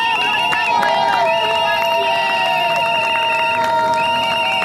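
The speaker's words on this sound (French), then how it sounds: "Acclamation, s'il vous plaît." A crowd at a civil wedding ceremony cheering and calling out in acclamation, loud layered voices and shouts filling the room without pause.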